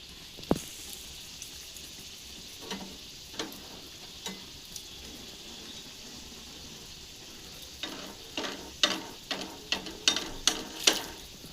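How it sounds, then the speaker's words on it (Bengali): Mughlai paratha frying in hot oil in a kadai, a faint steady sizzle punctuated by sharp spatter pops that grow denser and louder toward the end. "এবার তেলটা গরম হয়ে গেছে এবার আমি পরোটাটা ভেজে নেব"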